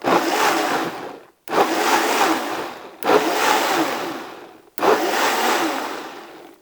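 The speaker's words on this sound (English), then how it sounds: "I'm just going to kind of pulse it a few times until I get that what I call coarse puree" A blender pulses chilies and tomato into a coarse puree: four loud whirring bursts of about a second and a half each, separated by brief pauses, close and alone with no talk.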